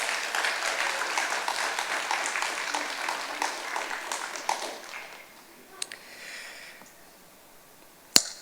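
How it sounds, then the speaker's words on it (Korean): Church congregation applauding during a Sunday praise service, clapping dense at first and then fading into a quiet room with a few soft noises and one sharp tap near the end. "한번 박수 부탁하겠습니다."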